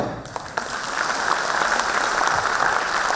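Audience applause at a Karnataka school awards ceremony honouring teachers, a steady wash of many hands clapping that swells after the first half second and holds throughout, with no talk over it.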